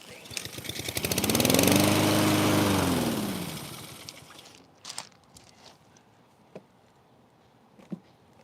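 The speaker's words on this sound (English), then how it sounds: "you're gonna be hearing the lawnmower run" A lawn mower engine revs up loudly and runs steadily for a few seconds, then fades out, leaving quiet with a few scattered clicks and taps.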